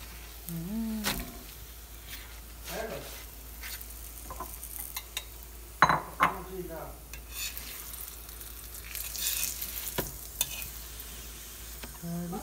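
Chapatis cooking on a pan give a faint, steady sizzle with occasional light scraping and clicks, quiet and close, with no talking over it.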